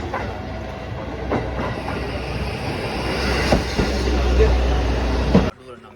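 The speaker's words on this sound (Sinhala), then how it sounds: "අපේ ට්‍රේන් එක යනවද" A train in Japan rumbles steadily past at close range, with rhythmic clatter building and a few sharp knocks before the noise cuts off abruptly near the end. Faint voices mix in beneath it.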